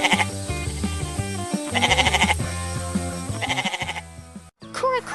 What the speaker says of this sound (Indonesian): dilihatlah kambing putih yang sedang bermain di belakang pagar kayu